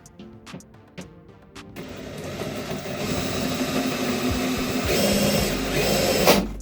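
A few sharp knocks, then a power tool cuts round socket holes into a boat's electric cupboard panel, its rough buzzing growing steadily louder and more strained over several seconds.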